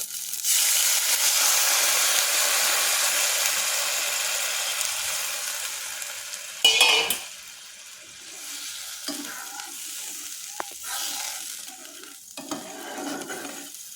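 Water poured into a pan of fried spices gives a loud, close hissing sizzle that slowly fades, then a sudden sputtering burst, followed by quieter bubbling and a few utensil clinks.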